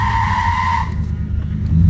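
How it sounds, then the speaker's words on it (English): A Chevelle brakes hard on a straight after a hill, fitted with a new drum-to-disc brake conversion; a loud, steady tire squeal holds for about a second, then drops away into road and engine rumble. "Hit the brakes, Michael."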